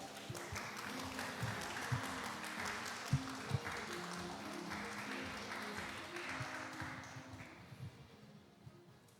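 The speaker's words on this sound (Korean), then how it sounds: "저희 큰 박수로 환영하겠습니다." Audience at a university talk event applauding to welcome a speaker, sustained moderate clapping that gradually fades out over several seconds, with a couple of sharper claps standing out.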